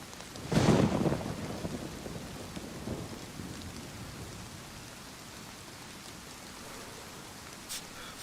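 A rainstorm in DayZ opens with a rumbling thunderclap early on, which fades into a steady, even hiss of falling rain that carries on quietly to the end, with no voices.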